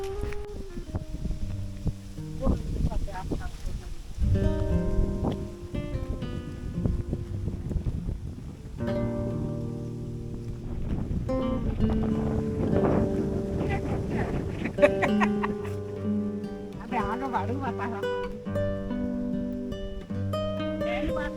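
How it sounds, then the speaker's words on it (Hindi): Steady outdoor wind gusting against the microphone among trees at a mango orchard in Bangladesh, continuous rumbling buffets underneath, with music-like tonal sounds and occasional voices mixed in. "इतना मस्त हवा चल रहा है"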